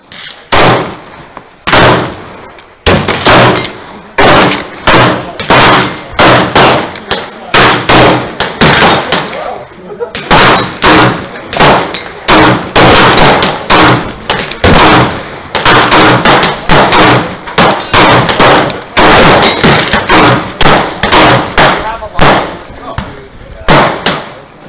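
Loud, closely spaced gunshots from a 1911 Commander-size pistol in 9mm, fired in rapid strings of sharp repeated cracks with brief pauses between groups, heard from the shooter's position.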